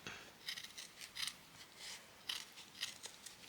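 Scissors snip around a scrap fabric embellishment in a series of small, quiet, close cuts with brief gaps between them.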